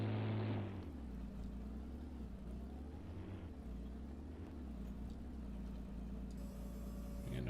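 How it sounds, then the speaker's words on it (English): A small tractor engine in Farming Simulator 19 drones steadily, a low continuous rumble with slight shifts in pitch and a brief louder burst at the start. "this little tractor's tough, man. This thing is gonna rock."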